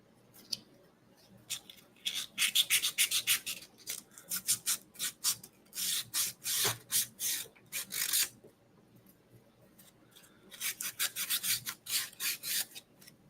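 Wood being sanded by hand for a ROKR Viking Dragon Boat model kit, heard as bursts of rapid rasping strokes that come in runs with short pauses, close and fairly loud with no talking.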